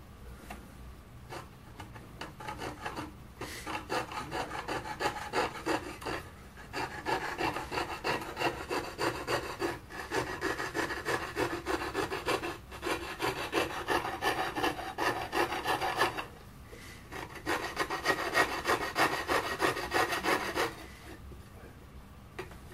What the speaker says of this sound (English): You won't be able to get right into the middle with the tin snips, so you have to finish off using a jeweller's saw.